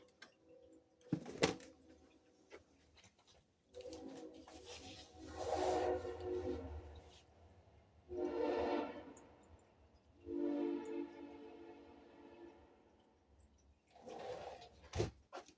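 A passing train sounds its horn in several long, loud blasts separated by short pauses, with no talking over it.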